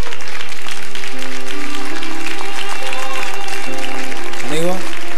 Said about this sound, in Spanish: Este aplauso al público, a tus compañeros.